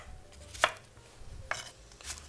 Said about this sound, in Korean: 5분 이상 이렇게 잘게 잘라주고요